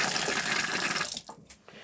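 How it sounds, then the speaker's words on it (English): Water runs steadily from a sink tap in the bathroom of a 2016 Buccaneer Cruiser caravan, a broad hiss that stops after a second or so and leaves a few faint drips and clicks. "open the tap up on the sink"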